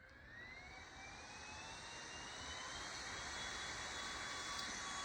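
A Coolhill fan running at setting 199 gives a steady, broad rushing whoosh with a faint whine that edges slightly upward, constant and fairly quiet, with no talking.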